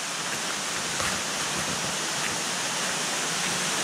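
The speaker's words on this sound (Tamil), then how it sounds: "ஏன்னா ஃபால்ஸ் சத்தம் கேட்குது" Steady broadband rush of a waterfall flowing near a temple on a trek to Sadasiva Kona Waterfalls, a constant even roar with no breaks and no voices.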